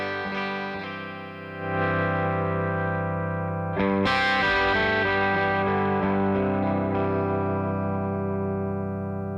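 Electric guitar played through a 5E3 Tweed Deluxe amp with the normal channel volume set high alongside the bright channel: dense, slightly overdriven chords and single notes ringing full and sustained, with a louder strummed accent midway.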